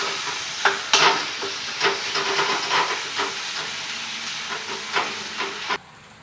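Coconut sautés in a pan for a spicy village-style chicken curry, a close hissing sizzle broken by repeated scraping stirs and clinks, stopping abruptly near the end.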